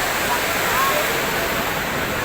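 Water flows steadily along the indoor canal at Marina Bay Sands in Singapore, a constant even rush at night that stays close and fairly loud without a break.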